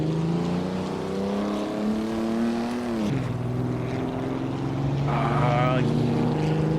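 The Auto Union C race car in the Racing Legends video game, at the Feldbergring, screams at full throttle in a loud, sustained engine note. The pitch climbs, drops sharply at a gear change midway, then holds steady and strong.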